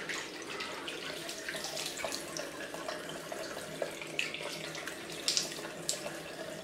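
Warm tap water runs steadily from a faucet into a sink while someone rinses off after a wet shave, a continuous splashing wash with a few brief louder drips and splashes near the end.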